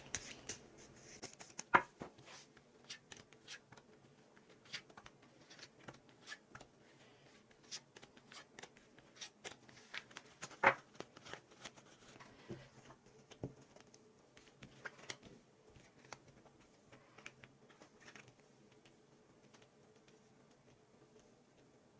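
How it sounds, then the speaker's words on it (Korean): Tarot cards are handled during a reading, with soft shuffling patter, papery slides and light taps scattered across a quiet, close room, with no talking. "그러면 상대방의 상태 카드 뽑아볼게요"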